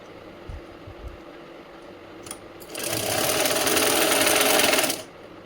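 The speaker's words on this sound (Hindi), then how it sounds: "अब हम इसको बिल्कुल एक पैर का सिलाई दबा के इसको फोल्ड कर देंगे" Sewing machine stitching folded fabric for a puffed sleeve: a couple of soft knocks, then a loud, continuous buzzing run of about two seconds that stops abruptly, close up with no talk.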